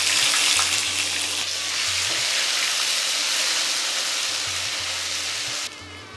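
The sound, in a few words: ginger paste frying with whole cumin and spices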